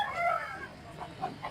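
Roosters at a chicken expo in a Cebu City public market give a short, nasal crowing call followed by a few softer clucks amid faint market background noise.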